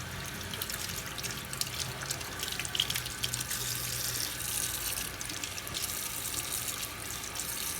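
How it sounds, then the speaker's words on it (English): A tap runs steadily into a sink while fingers are washed with soap, a constant close splashing hiss with faint shifts in the water flow and no voices. "so I'm going to wash them with some soap real quick just to get the excess off my fingers"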